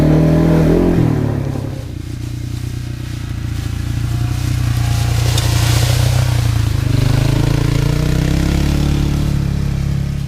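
A Kawasaki Brute Force 300 ATV engine drones steadily on a trail. A deep, loud motor tone holds and climbs slightly as the machine accelerates and strains at speed.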